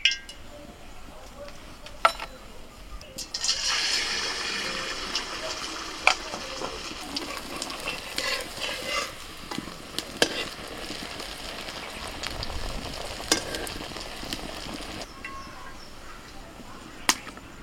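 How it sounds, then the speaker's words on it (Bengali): Pithe cakes frying in hot white oil, a steady close sizzle that swells as the cakes go in, with occasional clinks and stirring taps of a utensil against the pan. "তেল গরম হয়ে গেছে, একে একে পিঠেগুলো দিয়ে দেবো।"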